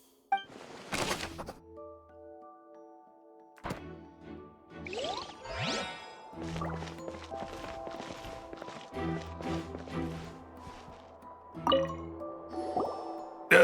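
Water drips onto a wet floor in Genshin Impact: a series of close, clear drops and plops at irregular intervals over sustained background tones.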